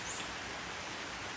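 Heavy rain falls outdoors as a steady, dense hiss that stays even and continuous throughout, with no voices.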